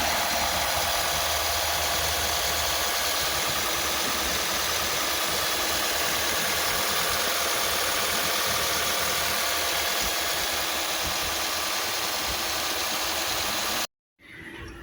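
A 2013 Toyota Fielder with a 1ZFE 1.5-litre inline-four petrol engine idles close by, a steady, loud mechanical hum and whir holding constant throughout before a sudden cut near the end.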